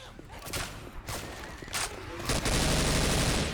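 Gunfire from the video game Left 4 Dead 2 played with a US Ranger mod, shooting zombies: a few separate shots early, then a continuous dense burst of fire building louder toward the end.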